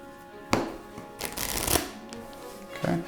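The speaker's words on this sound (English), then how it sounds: "I'm just gonna shuffle the deck here a couple times here" A deck of playing cards being shuffled during a card trick, with several riffling bursts and snaps close to the ear, while a voice talks quietly underneath.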